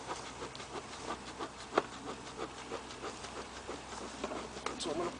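Honey bees buzzing around an open beehive during an inspection: a steady, close insect drone mixed with light rustling and tapping, and faint human sounds in the background.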